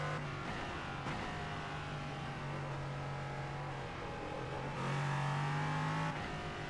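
A race car engine in a racing video game revs steadily at high pitch, holding a sustained whine, with a brief surge as it shifts gears, loud and continuous without speech.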